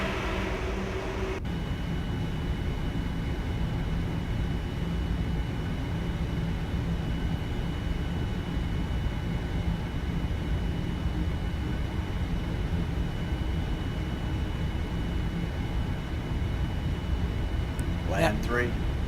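Aircraft engine on approach in Microsoft Flight Simulator X, a steady broad droning hum that holds evenly at moderate level throughout, with a brief click early on and a faint chime near the end.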